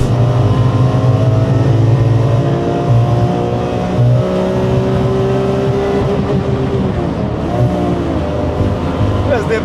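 A BMW E30 fitted with an E46 M3 engine roars and climbs in pitch as it accelerates, loud and continuous, with shifting gears and people talking faintly underneath.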